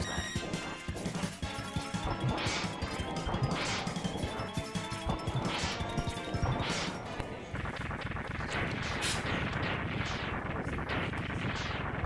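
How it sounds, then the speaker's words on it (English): Long, dense barrage of boss explosions in the Mega Man X2 video game, during a live speedrun event: continuous loud crashing blasts that burst again and again over about twelve seconds with no letup. "The explosions on the bosses in this game are out of the world"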